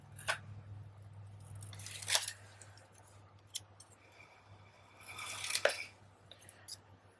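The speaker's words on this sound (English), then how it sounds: "So I'm just going to fussy cut this out a little bit here." Paper being fussy cut with scissors for a handmade card, a few separate close snips and crunchy cuts with quiet pauses between them, plus a low steady hum underneath.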